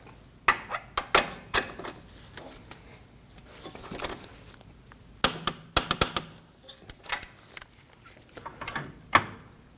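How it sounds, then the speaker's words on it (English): A torque wrench on the outer tie rod of a 2015-2024 Ford Edge gives a run of sharp mechanical clicks and ratcheting taps in irregular clusters, close and fairly loud with no voices. "And we can torque this to 111 foot-pounds."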